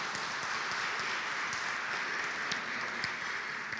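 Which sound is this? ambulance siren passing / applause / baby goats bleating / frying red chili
applause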